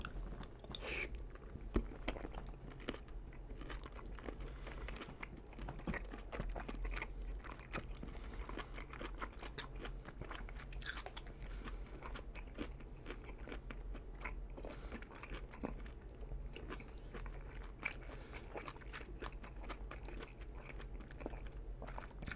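Crunchy kimchi chewed with the mouth closed, a steady run of soft, close crunching and biting noises over a quiet low hum, with no talking.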